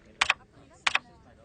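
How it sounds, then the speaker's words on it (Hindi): Two hard, close strikes on a computer keyboard in an office, each a short clattering burst of keys, spaced about half a second apart over quiet background. "ये कंप्यूटर तो ऐसे चला रहा है जैसे टाइपराइटर चलाते हैं।"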